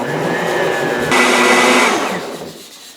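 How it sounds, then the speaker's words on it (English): Blender whirring as it blends a chocolate protein powder treat, a loud steady motor roar that rises in pitch partway through, then winds down and fades near the end; no talking. "because you're putting it into the blender, it's also kind of aerating it"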